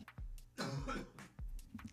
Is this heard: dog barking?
no